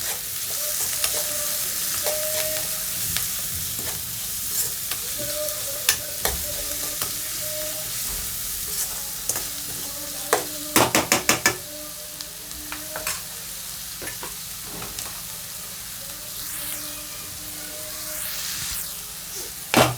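Ginger paste and garam masala fry in a pan for carrot rice, giving a steady close sizzle broken by scraping stirs and a quick cluster of utensil clicks.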